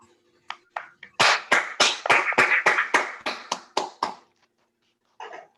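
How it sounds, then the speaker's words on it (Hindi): Audience at a motivational stage event clapping in a short burst of about a dozen loud, evenly spaced sharp claps close together, fading out, followed after a pause by a brief scattered patch of clapping. "उसके लिए एक बार जोरदार ताली होनी चाहिए।"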